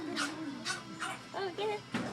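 A small puppy gives a run of thin, high whimpers and brief yips, several in quick succession at close range, with soft sounds between the cries.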